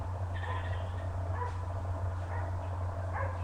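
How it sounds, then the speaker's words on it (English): Distant dogs bark in short, scattered bursts over a steady low hum, faint and far off. "I'm just waiting for those dogs to shut up. They're so loud, they're always barking"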